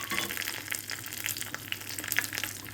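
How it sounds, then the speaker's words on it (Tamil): Mustard seeds and urad dal crackle and sizzle in hot oil in a tempering ladle, a dense bright spattering that stays close and steady throughout. "இப்போ தாளிப்பு கரண்டியில் எண்ணெய் விட்டுட்டு கடுகு உளுத்தம் பருப்பு போட்டு தாளிச்சிட்டு"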